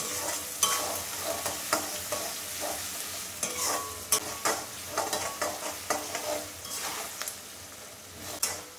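Green chillies sautéing with salt in a pan for rava kichadi, a continuous bright sizzle with frequent scraping strokes of a spatula stirring through the mixture, close and steady throughout.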